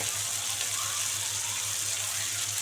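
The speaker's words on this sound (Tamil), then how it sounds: "கொஞ்சம் தண்ணி ஊற்றிடுங்கம்மா." Water pours steadily into a cooking pan of tomato and chana dal kootu, a continuous, splashing stream, close and fairly loud, with no talking.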